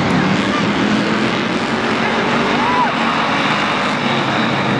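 Street stock race cars roar around Barona Speedway under green-flag racing, a dense continuous engine drone with a race announcer talking over it.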